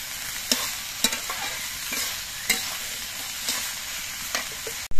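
Cauliflower stems and salt are stirred in a hot pan, a steady frying sizzle punctuated by regular spatula scrapes about every half second, close and moderately loud, ending in a sudden louder burst.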